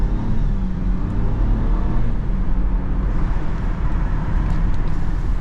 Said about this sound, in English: I kind of heard a little turbo there.